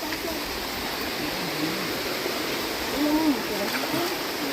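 Spring water flowing steadily outdoors, a constant rushing wash heard up close with faint voices underneath.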